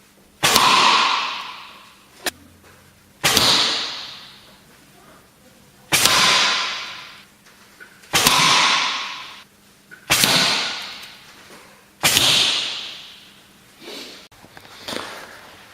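Arrows are loosed in paper-cup target practice: six sharp whooshing impacts arrive at regular intervals of about two seconds, each trailing off, with a few small ticks between them.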